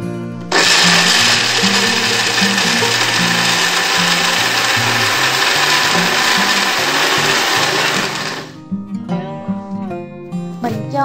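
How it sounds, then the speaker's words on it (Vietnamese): A blender whirs loudly and steadily for about eight seconds, puréeing chopped taro with coconut milk, then cuts off abruptly, leaving quiet background music. "Khoai này mình sẽ cắt nhỏ và mình cho vào đây một ít nước cốt dừa để mình xay cho cái phần khoai này nó mịn."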